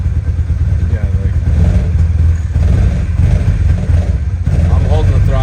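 A fuel-injected 1972 Honda N600 engine runs at a steadily held throttle, a loud, close mid-pitched drone with slight wavering in speed, while people talk over it.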